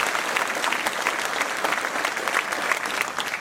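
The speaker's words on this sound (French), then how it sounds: "On peut les applaudir parce que le travail des équipes est essentiel." Audience applause at a mayor's New Year address in a French town hall: steady, dense clapping from a large crowd that carries on through the whole stretch at an even level, with no speech over it.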